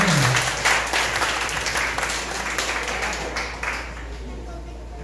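A church congregation breaks into steady applause, a dense wash of clapping that fills the room at even loudness throughout, with voices murmuring faintly underneath.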